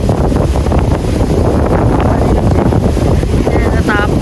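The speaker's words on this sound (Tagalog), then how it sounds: "lakas ang hangin." Strong seaside wind gusting hard against the microphone near rough surf, a loud continuous roaring buffet with waves underneath, ending in a short voiced sound.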